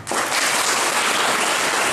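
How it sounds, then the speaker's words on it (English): An indoor audience at a heritage quiz breaks into loud, dense applause that starts abruptly and carries on steadily, with no voices over it. "I think we need a clap for that."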